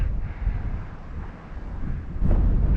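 Strong wind blows across a remote Northumberland beach during sea fishing, a steady rough roar buffeting the microphone, with low surf rumble underneath.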